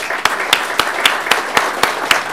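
An audience applauds minister Denis Lebel at an announcement of a federal investment in Port Saguenay, with steady crowd clapping and sharp, evenly spaced louder claps standing out every quarter second or so, close and continuous.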